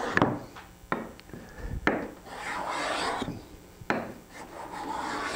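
A Veritas cabinet scraper drawn across wood at an angle makes repeated rasping strokes, each starting with a sharp scrape. The strokes are close and fairly loud, about five of them in a steady rhythm, with no voices.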